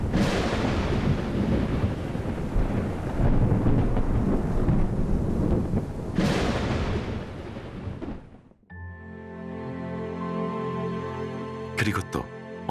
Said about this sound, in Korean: 비구름 한 점 없는 마른 하늘에 가끔 천둥과 번개가 요란하게 수를 놓습니다.